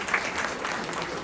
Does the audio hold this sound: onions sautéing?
no